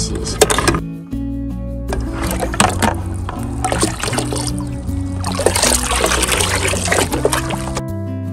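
A container that held fermented garden enzyme being rinsed out with water while preparing seedling fertilizer: close, steady trickling and sloshing with brief knocks of the vessel, running continuously for several seconds.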